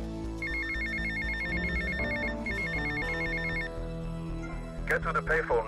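A payphone rings in the video game GTA Vice City, a repeating electronic trill in two bursts over low game music, followed by a brief sharp clatter near the end.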